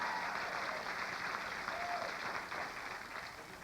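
Audience applause, a dense, even wash of clapping held at moderate distance throughout and easing slightly toward the end.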